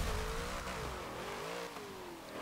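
A 1985 Nissan Safari Turbo in Forza Motorsport 7, its engine revving steadily with a pitch that rises and dips as it accelerates, loud and alone.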